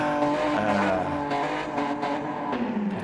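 GT3 race cars circle the Spa circuit in a racing video game, their engines droning and revving steadily with shifting pitch, loud and continuous, with no voices over them.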